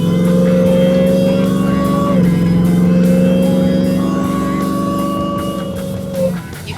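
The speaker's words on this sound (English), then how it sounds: "You can hear the whine of that Hellcat" Hellcat Redeye engine in a vintage Jeep Grand Wagoneer cruising with a steady, loud supercharger whine over a constant drivetrain drone, the pitch dipping briefly as it shifts and then holding high and even.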